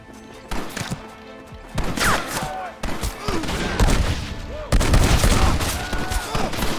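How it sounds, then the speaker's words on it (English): Gatling gun fire from the Red Dead Redemption video game, a loud, dense clatter of rapid shots that swells in bursts across the span, with heavy impacts and a voice faintly underneath. "You man the Gatling gun, Marston!"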